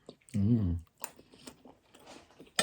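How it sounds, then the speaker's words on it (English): Someone chews slightly firm cooked carrots from a sweet and sour dish, soft crunchy bites and mouth sounds between a brief burst of talking, close to the ear. "The carrots is not totally soft, so you enjoy chewing it."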